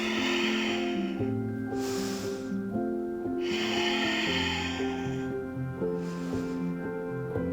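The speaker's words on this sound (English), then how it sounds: "Deep belly breaths." Two slow, deep belly breaths during a yogilates stretch rise and fall as soft airy rushes, each lasting over a second, over steady rhythmic background music.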